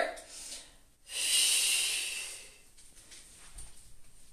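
Heavy breathing during a Pilates exercise session preparing for winter sports. A strong, hissing breath swells for about a second and then fades into softer breaths, with faint background sound.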